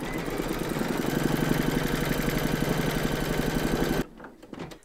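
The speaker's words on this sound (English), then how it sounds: "you're now going to stitch round number 9, and that's going to do the decorative top stitching along the join" An embroidery machine runs steadily, sewing decorative top stitching in silver thread along a join on an in-the-hoop crazy patch quilt block, a dense rapid stitching hum for about four seconds before it stops abruptly, followed by faint handling noise.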